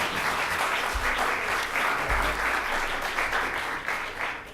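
Audience applause fills a Leawood City Council meeting after public comments about an amphitheatre, a steady, dense clapping that holds for several seconds before easing slightly at the end.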